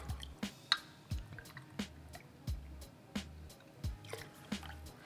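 A 1-to-1 sugar syrup trickles and drips into a larger vessel for homemade white creme de cacao. The drips come as quiet, spaced wet plinks and squishy splashes in a soft, close setting, with no talk.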